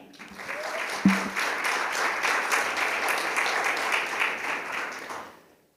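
An audience applauds a keynote speaker at an academic innovation event, clapping swelling quickly to a sustained, even roar before fading out at the end.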